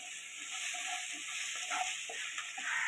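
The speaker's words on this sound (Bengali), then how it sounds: "পেঁয়াজটা আমি হালকা করে একটু ভেজে নেব" Roughly cut onions fry in hot oil for an Afghani egg curry, a continuous soft sizzle with faint intermittent stirring, close and steady throughout.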